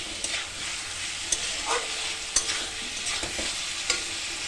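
Masala for a vegetarian paneer curry fries in a pan, a steady close sizzle punctuated by sharp knocks and scrapes of a spoon stirring roughly every second.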